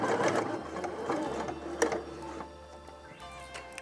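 A sewing machine sews ribbon onto a small, soft beauty pouch. Steady, close mechanical stitching runs for a couple of seconds, then slows and fades to a quieter hum with light clicks.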